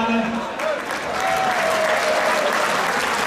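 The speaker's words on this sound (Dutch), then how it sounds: "geef ze een klap voor de applaus," Audience applause for veteran fighters at a gym fight event, a steady wash of clapping from a crowd throughout, with a voice speaking over it.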